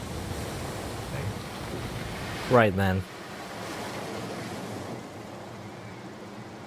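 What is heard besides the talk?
ocean waves in the video game Far From Noise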